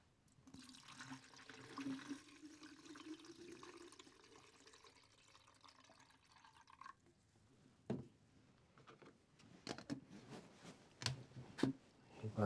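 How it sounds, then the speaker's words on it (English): Stop bath pours into a film developing tank in a steady gurgling stream for several seconds, then stops, followed by scattered clicks and knocks of handling nearby. "And now we pour in the stop bath."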